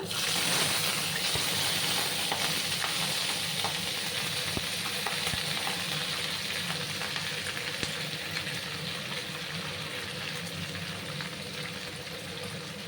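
Mixed vegetables dropped into hot oil and spice tempering in a pan, a steady bright sizzle and crackle with small pops and stirring scrapes, close and continuous, slowly easing off.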